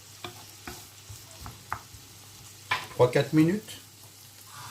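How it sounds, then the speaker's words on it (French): Onions frying in a pan on a stovetop at medium heat for an onion omelette, with soft stirring scrapes and a brief rise of sizzling toward the end, while a person talks over it. "on va faire revenir les oignons pendant quelques minutes"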